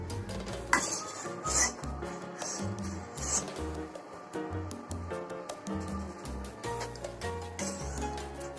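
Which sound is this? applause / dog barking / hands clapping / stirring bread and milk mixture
stirring bread and milk mixture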